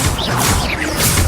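The Expelliarmus spell effect in Hogwarts Legacy gives a loud, dense magical whoosh with crackling, swirling energy and a brief impact, filling the whole short burst.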